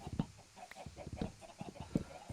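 Chickens on a farm in the survival video game Elfland cluck in short repeated bursts, soft and steady, with no talking.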